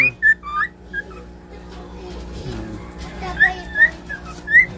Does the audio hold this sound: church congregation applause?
no